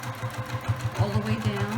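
A sewing machine stitches placemat fabric close by, its motor thumping in a quick, steady rhythmic pulse through the whole short stretch.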